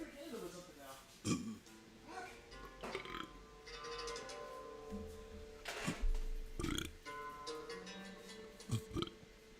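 Several loud, low burps erupt one after another, separated by short pauses, with some background chatter between them.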